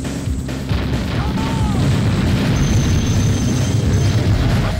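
Bomb blast in the Sega Dreamcast shooter GigaWing: a heavy, sustained booming roar that fills the whole few seconds, with crackling debris and synth tones over it and someone talking.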